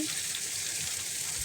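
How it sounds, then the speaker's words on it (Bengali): Tilapia fish fry in a hot pan, giving a steady, even sizzle of oil that holds at a moderate level throughout with no talking. "মাছগুলো এখন আমি ভেজে নিব"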